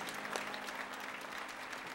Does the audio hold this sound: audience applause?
yes